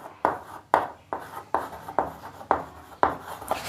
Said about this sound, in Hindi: इसकी डेफिनेशन लिखते हैं